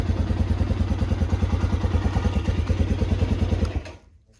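A Spark SP300T-1 single-cylinder engine runs close by with a rapid, even chugging pulse for several seconds, then cuts out and fades to near silence.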